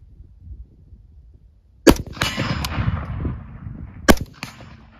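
An M16A1 rifle fires at a steel plate outdoors, producing two sharp metallic clangs about two seconds apart, the first followed by a lingering ringing tail, with low background rumble.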